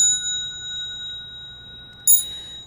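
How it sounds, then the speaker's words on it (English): A single bright bell strike rings out near the end of a quiet stretch during a Buddhist sutra lecture, sharp and short over a low steady hum, with no one speaking. "The bells sound"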